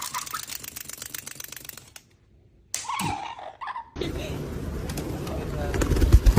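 Pigeons at a pigeon tower on a farm give soft, repeated coos amid outdoor bird noise, broken by a brief near-silent gap and a short rustling burst, then steady busy ambience with low thumps near the end.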